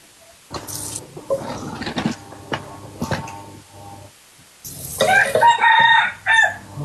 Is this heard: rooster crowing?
yes